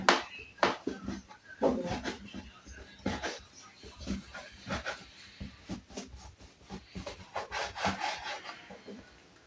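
A knife cuts through rolled, layered homemade erişte noodle dough into strips, giving a run of soft, close scraping and chopping strokes in an irregular rhythm, with a person speaking over the cutting.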